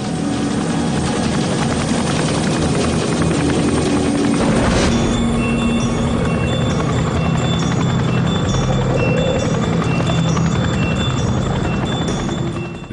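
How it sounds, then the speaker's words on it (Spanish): A large helicopter's rotor blades thud loudly and steadily, filling the scene with dense, roaring noise as it approaches, in Afghanistan. "oyen el ruido de las paletas del rotor de un gran helicóptero acercándose"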